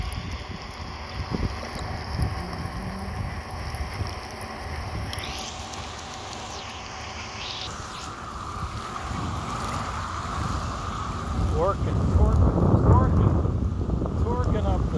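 Segway e+ electric unicycle carving uphill through rain, a rushing wash of wind and wet road noise with spattering water, swelling louder toward the end; a voice is heard faintly.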